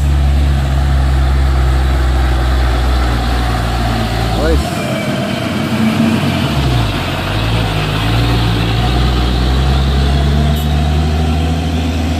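Uso Padati 220 PS truck engine idling nearby with a deep, steady rumble, a brief dip and shift in tone midway, and people talking over it throughout.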